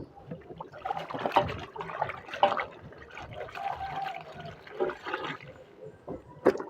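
Water splashes and sloshes in irregular bursts as laundry is washed by hand, with a few sharper slaps standing out over a steady wet background.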